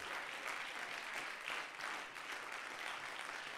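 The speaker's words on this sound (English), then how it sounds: "Let's clap our hands and praise him this morning" Inside a church on a Sunday morning, the congregation claps their hands in praise, a soft, even wash of many hands heard from a distance without any voices.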